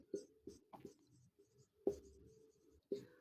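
Someone writes on a board during a lesson, making short, quiet scratchy strokes in quick bursts, close by with brief pauses between words.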